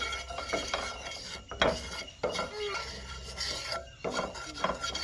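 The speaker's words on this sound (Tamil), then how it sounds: "நாங்கள் இப்போ சீரத்தை வறுக்கிறத தான் பார்த்துட்டு இருக்கிறோம்" Cumin seeds roasting in a dry pan, stirred with a metal utensil, give a steady scraping, rasping clatter with brief louder strokes at close range and no talk.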